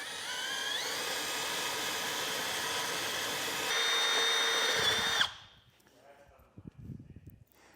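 A power drill bores steadily through vehicle metal at low speed with heavy pressure to enlarge a hole while fitting a Front Runner Slimsport platform rack, its whine rising in pitch near the end before stopping abruptly, followed by quiet handling noises.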